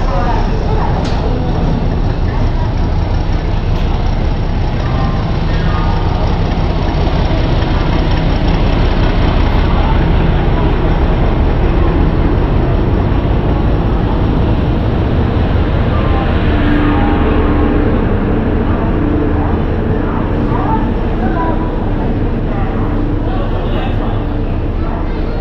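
Deep steady rumble of the Howrah–Amritsar Mail rolling into platform 9 at Howrah station, a continuous loud engine drone filling the whole stretch with faint station noise around it.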